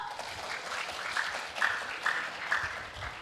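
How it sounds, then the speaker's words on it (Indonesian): Applause from an audience at a post-election event at UNILAKI in Kendari, a moderate patter of clapping with a few louder bursts, sounding somewhat thin and roomy. "Tepuk tangan dong."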